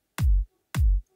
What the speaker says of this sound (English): found one in the drum machine designer called After Party. And you can find the kicks of After Party sound like this.